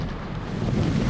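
Strong typhoon gusts buffet the microphone in Hong Kong, a brief, loud, rumbling rush of wind that swells toward the end, with no voices.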